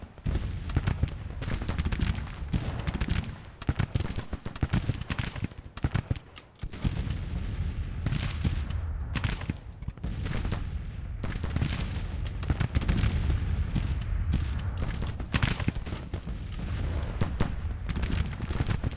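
Gunfire in a Civil War battle video game set at the First Battle of Manassas: dense, continuous musket volleys crackling near and far with low booms, sustained throughout and mostly free of talk.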